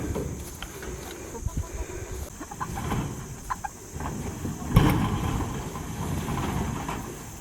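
Backyard chickens cluck in short, scattered bursts at moderate distance, with a sharper call near the middle over low outdoor background noise.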